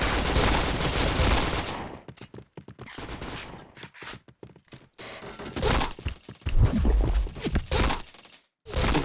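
Rapid bursts of gunfire crack through a shooting video game, dense volleys broken by short gaps and sharp single shots, loud and close with no voices over them.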